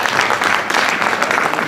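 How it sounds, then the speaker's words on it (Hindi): An audience at a mushaira, an Urdu poetry gathering, bursts into loud, dense applause that holds steady without a break for under two seconds. "तालियां बजा दीजिएगा।"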